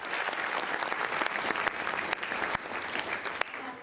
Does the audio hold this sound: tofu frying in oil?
no